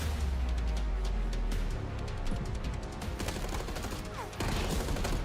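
Sustained Galil assault rifle gunfire from Black Ops 6, a dense stream of rapid shots and crashes running the whole time, loud and close with no one speaking.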